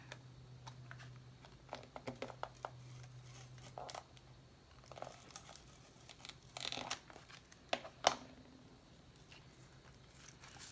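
Tissue paper being torn and peeled away from the edges of a window sheet on a handmade pizza box, irregular soft crinkles and sharp tearing bursts close by, with no voices.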